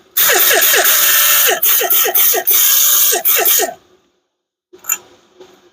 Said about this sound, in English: let's grind this last one